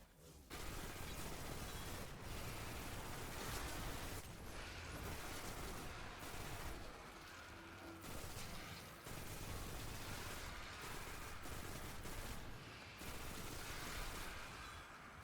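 A Ros Arago 600 RPM auto rifle firing in Destiny: long, sustained bursts of rapid automatic fire, loud and near, broken by brief gaps between volleys and mixed with impact noise.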